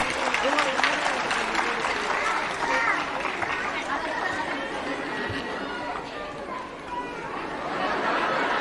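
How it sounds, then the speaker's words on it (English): Parents in a school auditorium applauding at an annual day programme, a continuous dense wave of clapping mixed with crowd chatter, holding steady for several seconds. "I request the parents to encourage the students by their claps."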